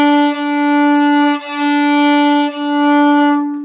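Bowed string instrument playing a slow scale with too much bow, each long sustained note rich in harmonics, three or four notes changing at even intervals, close and loud with no talking.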